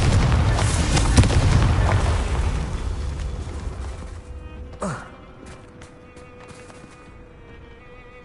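Confringo blasting spell cast in Hogwarts Legacy, a loud rumbling boom that decays over several seconds, followed near the five-second mark by a sharp whooshing burst and then a quieter ambient tail.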